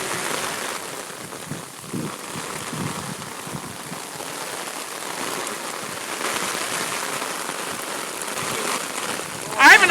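Heavy rain pours steadily over an outdoor golf course, a dense hiss of drops hitting ground and surfaces that swells slightly toward the end, close and continuous with no clear speech.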